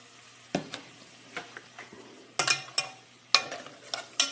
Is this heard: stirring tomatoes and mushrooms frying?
yes